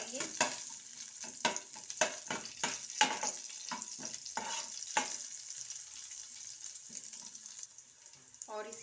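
Chopped green chili is stirred in a frying pan, a spoon scraping in quick rhythmic strokes over a steady oily sizzle that thins out toward the end.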